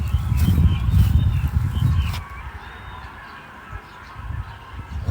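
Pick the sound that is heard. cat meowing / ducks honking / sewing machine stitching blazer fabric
ducks honking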